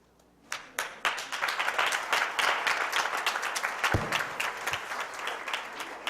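An audience at a Black History Month celebration breaks into applause for the steel drum band, swelling from a few early claps into dense, sustained clapping that carries on steadily through the end.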